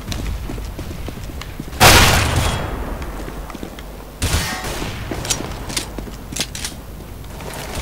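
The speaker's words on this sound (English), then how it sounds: "Grenade!" A grenade detonates in Counter-Strike: Global Offensive with a loud broadband blast, followed a couple of seconds later by a second burst, then scattered sharp gunfire cracks and footsteps.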